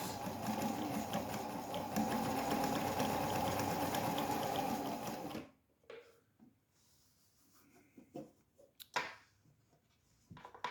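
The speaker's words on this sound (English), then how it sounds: "Now we'll go backwards." A vintage White Model 764 "Fair Lady" sewing machine stitches backwards on a long straight stitch, a steady close mechanical whir for about five seconds, then stopping, followed by quieter handling clicks and rustles.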